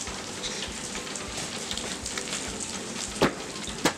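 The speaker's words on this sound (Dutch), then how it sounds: "Het regent alweer super hard." Heavy, steady rain pouring down outdoors near a horse stable, a dense continuous hiss of drops on surfaces, with two sharper louder splashes or taps near the end.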